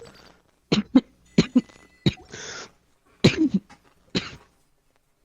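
Several short, harsh coughs in a row, close and fairly loud, separated by brief pauses.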